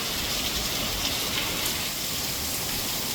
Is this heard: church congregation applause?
no